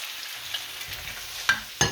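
Mushrooms and onion go back into a pan for a beef and vegetable stir fry, giving a soft sizzle with two sharp scraping stirs near the end.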